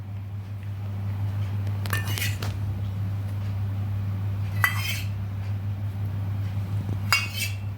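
A spoon clinks against a metal bowl a few times as melted ghee is added to wheat flour dough, with sharp isolated taps over a steady low hum.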